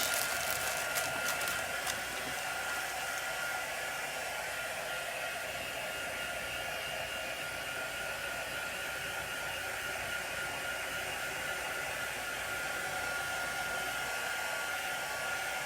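A hair dryer blows steadily on chalk paste on a craft project, a loud constant whooshing hum that runs unbroken for the whole stretch, with a few faint clicks near the start.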